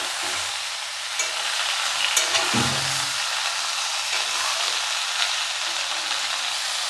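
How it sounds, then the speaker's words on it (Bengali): Vegetables and slit green chillies fry steadily in a pan for shukto, a Bengali mixed-vegetable dish, giving a continuous hiss and sizzle with a few brief stirring clatters, close up and with no talk. "দেখেছেন কত সুন্দর ভাজা হচ্ছে"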